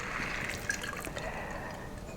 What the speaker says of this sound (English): next I'm going to pour this into my champagne glasses